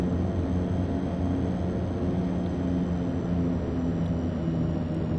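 Simulated DHC-6-300 Twin Otter turboprop in the FSX flight simulator with power brought up for taxi, a steady droning engine hum with a constant whine, loud and continuous throughout.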